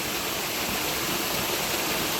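Small waterfall in a forest near an ashram, a steady broadband rush of falling water, even and unbroken, moderately loud and close, with no talking.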